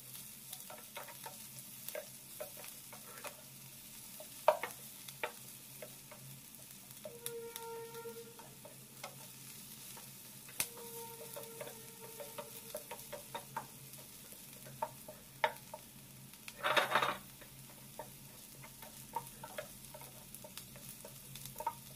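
Carrots and capsicum stir-fry in a pan for Yippee noodles chow mein style, with a soft continuous sizzle broken by repeated scraping stirs and clinks of the spatula, close and alone.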